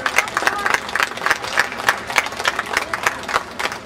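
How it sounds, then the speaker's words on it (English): A crowd applauds with steady, dense clapping that holds at an even level throughout, with some voices mixed faintly into the noise. "How about a big round of applause for them?"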